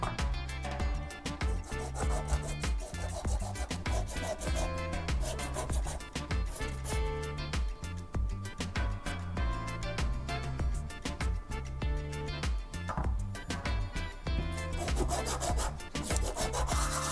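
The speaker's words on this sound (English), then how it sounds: "the edges of these cuts are still a bit rough, so let's sand them smooth with sandpaper" Sandpaper smooths the rough cut edges of wooden pieces in quick back-and-forth strokes. The dry, gritty rubbing repeats steadily and close up for about seventeen seconds, with no talk.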